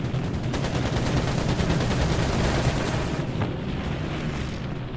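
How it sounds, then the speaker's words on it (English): Dense, continuous rattle of aircraft strafing gunfire in the video game Air Conflicts: Pacific Carriers, a loud, steady burst of rapid shots with engine rumble beneath, easing slightly near the end. "Going back down for a strafe."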